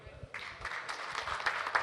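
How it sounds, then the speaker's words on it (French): An audience applauds at a round-table event, a dense wash of clapping that rises after a moment and holds steady at moderate volume, with talking under it. "Bravo, on peut applaudir."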